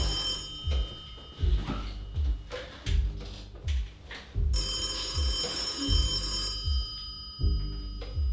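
Telephone ringing: a repeating electronic ring in regular bursts about every three-quarters of a second, loud and close, with faint background noise and no speech.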